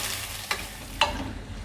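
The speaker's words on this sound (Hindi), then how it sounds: "इसको अब हम गुलाबी होने तक फ्राई करेंगे।" Finely sliced onions fry softly in oil in a kadai, a low steady sizzle broken by two short scraping stirs.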